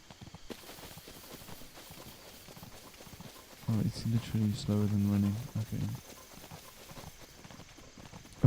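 Horse hooves pound in a rapid rhythmic run while riding a horse in a video game, loud and close for about two seconds, with a voice talking briefly.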